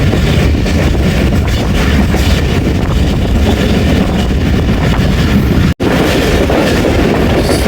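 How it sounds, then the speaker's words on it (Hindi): The 13 Awam Express passenger train rushes through the small Chua Kariala station, a loud, dense, continuous roar of wheels and carriages with faint rhythmic clatter, broken only by one instant dropout. "चुआ कड़ियाला से पास हो रही है 13 अवाम एक्सप्रेस।"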